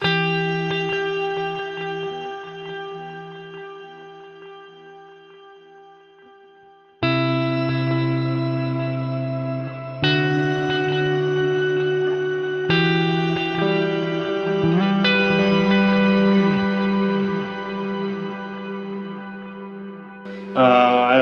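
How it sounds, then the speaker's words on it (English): An electric guitar runs through an Octo Reverb pedal on a pedalboard. Sustained chords ring out with a lush, shimmering reverb tail, and each fresh strum swells and then slowly decays, with no talking. "So it's an Octo Reverb."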